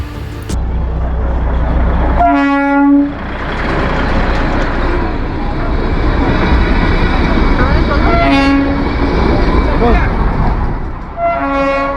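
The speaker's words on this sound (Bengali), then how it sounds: "টয় ট্রেনের সময়সূচি যদি জেনে নিতে পারেন তাহলে ট্রেন লুপ অতিক্রম করার দৃশ্য কিন্তু উপভোগ করতে পারবেন।" Darjeeling toy train rounding the loop, its horn sounding three short toots over a steady rumble of traffic and background crowd voices.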